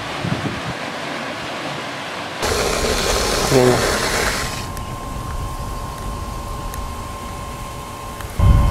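An electric motor runs steadily while pumping liquid manure, giving a continuous mechanical hum with a constant tone under broadband noise and wind-like rushing, steady throughout and louder near the end.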